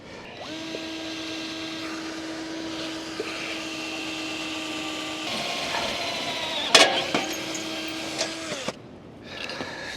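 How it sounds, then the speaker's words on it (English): A drill with a 1/4 inch bit boring a hole in a metal frame during a lawn vacuum build, a steady close whine with a pitch shift midway and a short sharp bite, then winding down. "Start our hole. Put on our 1/4 inch bit."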